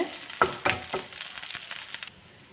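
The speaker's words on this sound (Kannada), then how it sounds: "2 ಹಸಿಮೆಣಸಿನ್ಕಾಯಿ, ಕರಿಬೇವಿನ ಸೊಪ್ಪು, ಇದನ್ನೆಲ್ಲ ಹಾಕ್ಕೊಂಡು ಸ್ವಲ್ಪ ಫ್ರೈ ಮಾಡ್ಕೊಳ್ತಾ ಇದ್ದೀನಿ." Green chillies and curry leaves frying in oil in a pan for sabakki upma, a steady close sizzle broken by a few stirring scrapes and clinks, with no talk.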